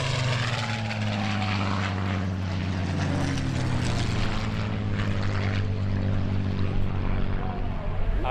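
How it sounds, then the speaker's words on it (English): At an airshow, a de Havilland Mosquito FB6 leads a Fairey Firefly and a Supermarine Spitfire Mark 9 past in formation, their piston engines droning loud and steady throughout, with the pitch shifting slightly as they pass. "Rod Lewis's de Havilland Mosquito FB6, the so-called wooden wonder, leads in the Fairey Firefly, the carrier-borne fighter and anti-submarine aircraft, and a Supermarine Spitfire Mark 9."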